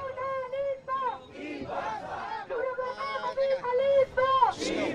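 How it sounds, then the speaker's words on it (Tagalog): Large protest rally crowd in a Manila street, a dense roar of chanting and shouting voices rising and falling in waves, loud and close throughout. "Sorry Ivan, medyo malakas lang yung ingay dito."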